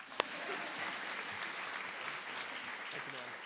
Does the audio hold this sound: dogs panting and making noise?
no